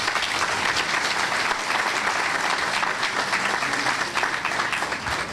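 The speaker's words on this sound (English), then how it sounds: "If you would give all these folks a round of applause." Sustained, dense audience applause at a senior community ribbon cutting ceremony, steady and even for the whole stretch with no voices over it.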